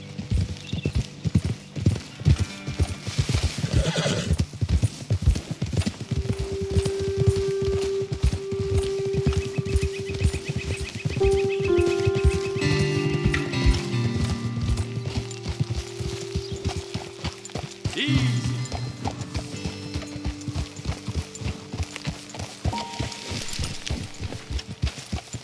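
Horses' hooves clip-clop steadily on hard ground for a long stretch in the video game Red Dead Redemption 2, with a sustained musical tone running underneath.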